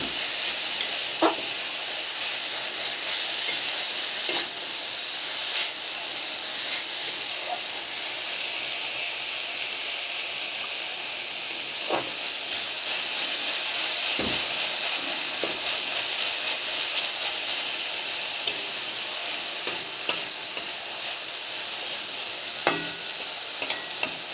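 Leafy greens frying in a pan with a steady soft sizzle and hiss, while a utensil stirs and scrapes at irregular moments, bringing a few sharper clicks and knocks close by.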